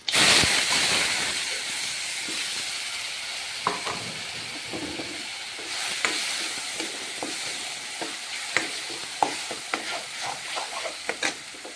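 Steady frying hiss from a pan of ground tomato, onion, garlic and ginger paste, broken by repeated scraping stirs and small clinks of a utensil, close by, with no talking.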